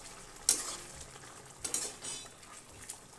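Yogurt paste is stirred into ridge gourd cooking in a pan, a quiet, soft sizzle broken by a couple of sharp spoon clinks against the metal pan.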